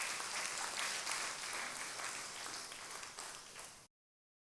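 A congregation at a church gathering gives a round of applause, a sustained wash of many hands clapping that fades slightly before cutting off abruptly.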